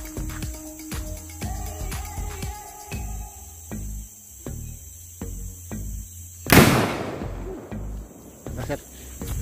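A homemade spirit-fuel cannon fires once midway with a single loud, sharp blast, heard against a busy outdoor background of insect chirping and rhythmic thumps.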